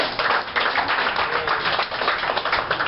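A comedy club audience applauds a comedian being introduced, dense continuous clapping from many hands filling the room at a steady loud level throughout.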